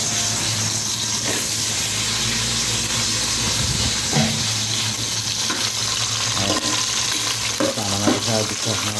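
Mung bean dish frying in a pan, a loud, steady hiss and sizzle filling the whole stretch, with occasional scrapes of a spoon stirring close by.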